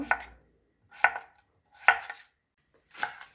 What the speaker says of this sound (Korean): 애호박도 반달 썰기 해줍니다